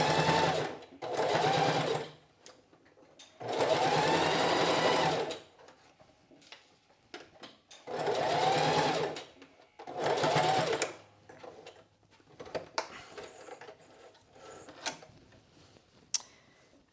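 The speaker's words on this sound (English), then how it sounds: "you want to edge stitch along the bias" A sewing machine edge stitches a bias binding along a seam allowance, running in several bursts of steady whirring stitching separated by short pauses, close and clear with a few small clicks and handling sounds at the end.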